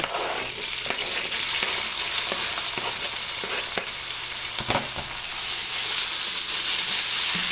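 Onions tossed into a hot pan of browned garlic over high heat, a loud continuous sizzle with scattered stirring scrapes and clicks, the hiss swelling stronger toward the end.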